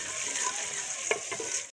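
Onions fry in a pan with a bright, steady sizzle, interrupted by a few short scraping stirs near the end; close and continuous, with no voices.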